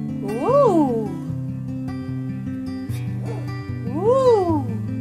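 Ten-day-old puppies whimper and yip in short rising-and-falling cries, two clear squeals with softer whines and murmurs in between, close and fairly loud.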